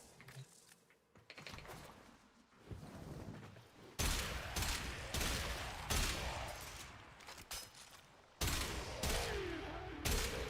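Rapid gunfire from a multi-shot weapon in Warframe, bursts of dense crackling shots in waves that grow louder and heavier after the first few seconds, with no voices.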